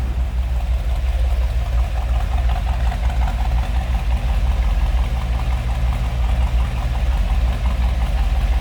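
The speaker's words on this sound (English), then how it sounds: "Nice little rumble coming out of that 409." A steady, low idle from a 1962 Chevrolet Impala SS 409 V8 rumbles continuously with a faint rhythmic lope, close by and uninterrupted, with no voices.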